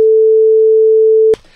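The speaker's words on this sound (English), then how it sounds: "Here in my door, I have a sine wave and it sounds like this." A pure sine-wave test tone plays as one steady, loud, unwavering pitch for over a second, then cuts off abruptly into a brief faint tail.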